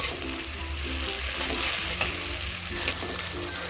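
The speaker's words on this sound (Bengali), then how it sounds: "এভাবে নাড়িয়ে চাড়িয়ে পেঁয়াজ বাটাটাকে একটু লালচে কালার করে ভেজে নেব।" Onion paste fries in a pan for a sour-spicy pangas fish curry, a steady close sizzle with scraping stir strokes running throughout.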